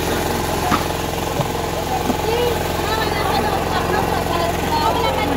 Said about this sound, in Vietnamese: Đây con máy nổ bơm nè